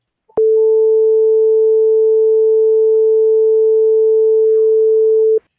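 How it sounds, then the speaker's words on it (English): A pure sine wave tone, a single steady pitch with no overtones, sounding loud and unchanging for about five seconds before cutting off abruptly. "you would hear a pure sine wave"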